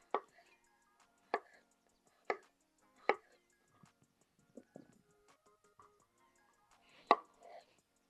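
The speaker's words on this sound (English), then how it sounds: "Just cutting these into chunk-sized pieces" A knife chops food into chunk-sized pieces outdoors, as a mountain camp meal is prepared: four crisp, evenly spaced cuts near at hand, a few softer taps, then one more sharp chop followed by light rustling.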